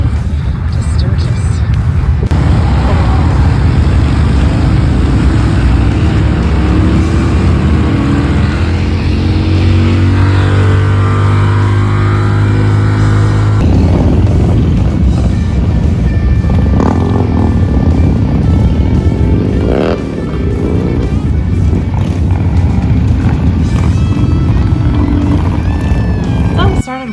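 Motorcycles, many of them Harleys, rumble along the main street in Sturgis, a loud continuous engine roar with revving swells and passing bikes, and voices under the noise.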